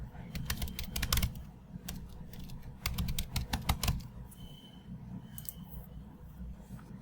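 Bursts of clicking keystrokes on a computer keyboard as an email address is typed, quiet and fairly close over a low room hum, with short pauses between bursts.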